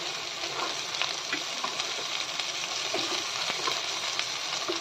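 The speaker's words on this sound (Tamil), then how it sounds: "முருங்கைக்காயை சேர்த்து வதக்கி விட்டுக்கலாம்" Drumstick pieces sautéing in a pan for dry fish curry, a steady close sizzle with scattered crackles and occasional stirring scrapes.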